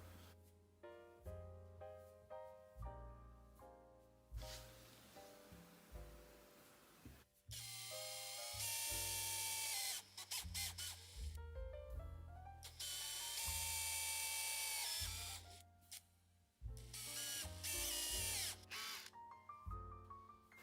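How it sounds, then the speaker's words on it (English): An electric drill whines in several short bursts while drilling a pilot hole into a door hinge's screw hole, spinning up and down with pauses between, close and fairly loud. "then I'm going to drill a pilot hole"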